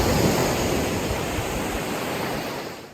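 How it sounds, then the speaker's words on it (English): Steady broadband wash of surf at Eton Beach in Vanuatu, a continuous close roar of waves with no voices, easing slightly toward the end. "this place behind me here is called Eton Beach"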